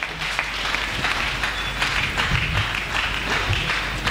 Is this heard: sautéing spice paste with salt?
no